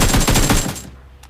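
Rapid automatic gunfire from a weapon in PUBG Mobile, a quick burst of about six close shots that cuts off abruptly into near silence, no speech.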